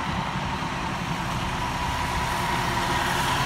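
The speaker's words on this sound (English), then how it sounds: "Paramedic engine 740." Steady, loud diesel rumble of a 2008 Montgomery County fire department paramedic engine running, a continuous idling drone with no pauses and no one speaking.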